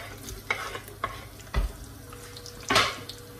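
Sliced onions frying in hot extra virgin olive oil, with a faint hiss broken by a few separate clatters of stirring and one sharp louder burst near the end; no one speaks.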